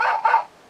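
A short electronic-sounding bark from a 2001 Robo-Chi Happy Meal robot toy dog, two quick bursts close together, bright and tinny, then silence.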